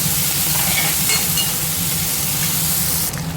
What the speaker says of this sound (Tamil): வெங்காயம் லேசாக வதங்கினா போதும்